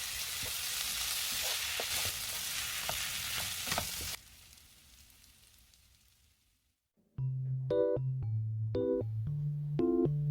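Winter radish stir-frying in a pan sizzles and crackles loudly for a few seconds, fades to near silence, then a bright musical jingle begins.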